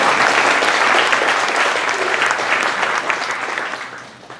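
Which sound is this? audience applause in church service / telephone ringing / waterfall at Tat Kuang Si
audience applause in church service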